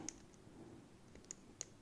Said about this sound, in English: 3 strange click, 4 click, and 5 click, very strange clicks for this lock.